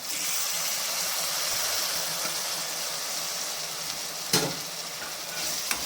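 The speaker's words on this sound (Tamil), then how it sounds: "புளிஞ்சி வச்ச நாத்தங்கிறத இதில் ஊற்றுறேன்" Squeezed citron juice poured into a hot pan for narthangai rice, producing a steady loud sizzle and bubbling hiss throughout, with one sharp clink of a utensil near the end.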